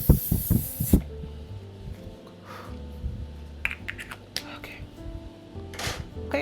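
A few quick hisses of So Pro Cosmetics Seal It waterproof makeup locking mist, close and crisp, in a burst at the start, followed by quieter rustling and small handling sounds.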